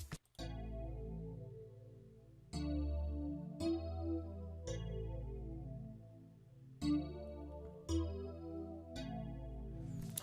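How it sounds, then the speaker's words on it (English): Vintage 80s-style FM electric keys from the Xenology plugin play a slow chord progression, each sustained chord struck about every one to two seconds with a bright attack and long ringing decay, alone and fairly quiet. "this sound was picked from a plugin called Xenology"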